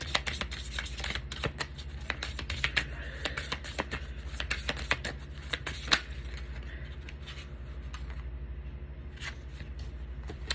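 Tarot cards being shuffled by hand in a steady run of soft riffling flicks and taps, close and fairly quiet, with no talking.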